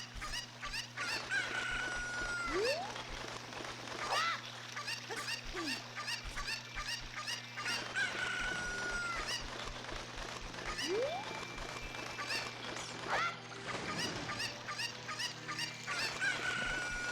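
A cucco chicken in The Legend of Zelda: Ocarina of Time clucks in quick repeated bursts, close and continuous, with occasional crow-like calls over a steady low game hum.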